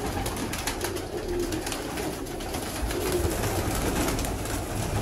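Parwazi pigeons in a breeder's loft coo in low, repeated phrases, moderately close, over a continuous background murmur with no clear talk.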